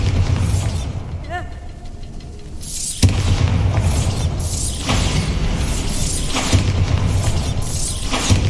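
Bombarda spell explosions in Hogwarts Legacy, several sharp shattering blasts with crumbling debris, loud and close, separated by brief quieter stretches with a faint rising magical chime.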